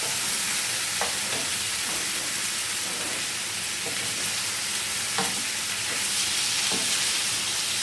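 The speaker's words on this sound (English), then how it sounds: "then you're going to continue frying them until they get a little crispy" Potatoes fry in a pan with a steady, dense sizzle and crackle, broken by a few sharper pops and spits. The sound carries through the whole stretch at an even level with no voices.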